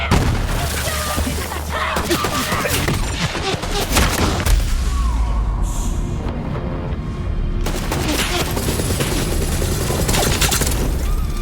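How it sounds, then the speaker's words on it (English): Bombs explode in a forest battle in Borderlands 3: a rapid barrage of booms and crackling gunfire-like blasts, loud and dense, with a short lull in the middle before another volley of detonations resumes. "Explosion echoed through the forest"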